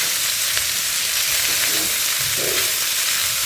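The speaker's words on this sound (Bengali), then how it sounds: "তো এটাকে এবার ভালো করে নেড়ে নিতে হবে" Pasta with fried onion, chilli and turmeric sizzles in a pan as it is stirred, a loud, dense, unbroken frying hiss close up.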